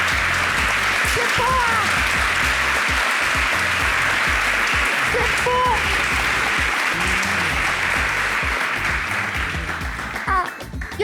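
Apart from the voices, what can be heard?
studio audience applauding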